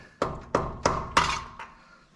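A soft-tip hammer strikes a carburetor metering block five times in quick succession, each hit a close, solid thunk that fades quickly, the last one lighter.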